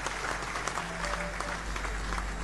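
Applause from an audience at a social conference on employment and employability, a soft, steady, distant wash of clapping over a low hum, with no speech on top.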